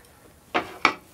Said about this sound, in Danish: Og så putter vi låg på.